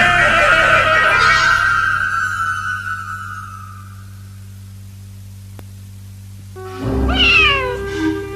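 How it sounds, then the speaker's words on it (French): A cat meows loudly and drawn-out at the start, followed by quiet hum, then a second shorter meow near the end. "Tiens, oh, le gentil minou."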